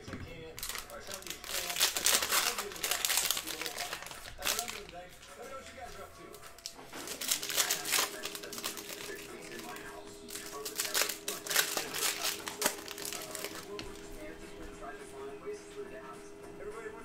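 A 2019-20 Panini Mosaic basketball card cello pack is torn open by hand, giving loud, close crinkling and rustling plastic in several bursts with brief pauses between them.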